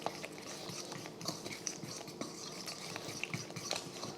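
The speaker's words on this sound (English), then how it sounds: "Just using a fork here, nothing fancy. Fork in a bowl." Egg yolks whisked with a fork in a bowl for sourdough waffles, a quiet, rapid, steady patter of light taps and scrapes, faint and close.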